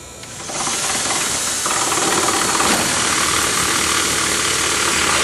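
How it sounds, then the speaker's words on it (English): A drill bores four mounting holes through the metal trunk floor of a GTO during a CNG tank install, a steady loud whirring grind with a hissy bite that holds continuously throughout. "continue to drill the four placement holes in the bed of the trunk area"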